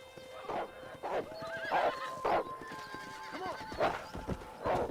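A horse in the video game Red Dead Redemption 2 neighs and whinnies repeatedly in close, loud bursts while hooves clip-clop steadily underneath, with no talk over it.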